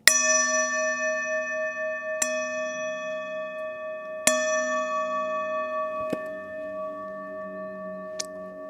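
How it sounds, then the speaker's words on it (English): Chimes ring at the close of a seniors' yoga session, five separate metallic strikes spaced about two seconds apart, each leaving a long ringing decay in a quiet room with no talking. "When you hear our chimes, you can open your eyes."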